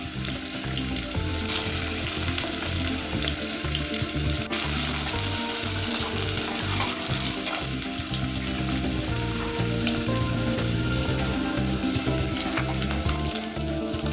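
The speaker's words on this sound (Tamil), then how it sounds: "ஆயில் ஒரு நாலு கரண்டி ஊற்றிக்கங்க பட்டை கிராம் போட்டுக்கங்க வெங்காயத்தை போட்டு நல்லா வணக்கிங்க" Onions sizzle steadily in about four spoonfuls of hot oil with cinnamon and cloves, for a puri side gravy, with a constant loud crackling fry and occasional stirring scrapes throughout, no voices.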